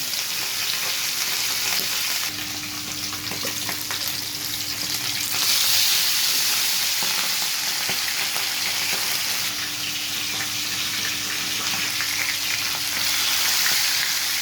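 Fish frying in hot oil, a steady close hiss and crackle of sizzling that swells slightly at moments and continues without pause.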